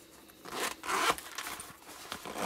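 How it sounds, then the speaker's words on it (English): The zipper on a personal protection pack pouch is pulled open in a few quick, close rasping strokes, loudest around the middle, with no voices. "We've got two zippers, so it opens smoothly."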